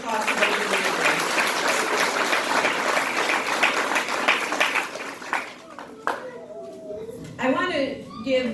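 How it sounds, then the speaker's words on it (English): A school crowd claps loudly at the Emerson Elementary School ribbon cutting, a dense burst of applause that thins out and fades, after which a person begins speaking. "So a huge round of applause for those individuals"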